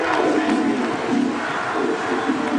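Football stadium crowd at Northwestern during a 2007 game against Michigan, a loud roaring mass of fans cheering and yelling in surging waves, filling the whole stretch.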